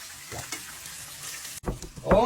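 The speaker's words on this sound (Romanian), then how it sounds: "Peștele, priviți cum sfârâie" Trout coated in cornmeal frying in a pan, giving a soft, steady sizzle with a few louder crackling bursts toward the end, with no talking.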